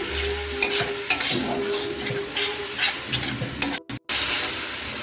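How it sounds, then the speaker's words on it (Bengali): Spice paste sautéing in a pan over a medium gas flame: a dense, continuous sizzle with occasional stirring scrapes, then a brief cut near the end before the frying resumes. "আমি বানিয়ে রাখা পেস্টটা দিয়ে দিচ্ছি আমি দু মিনিট কষিয়ে নিচ্ছি গ্যাসটা মিডিয়ামে রেখেছি"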